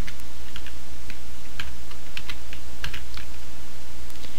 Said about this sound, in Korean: 컨트롤 C 누르시면 복사가 되죠